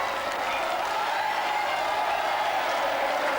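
A large crowd in Truro roars and applauds the Cornwall rugby team at their 1991 open-top bus parade, a dense, continuous wash of cheering and clapping that holds steady throughout.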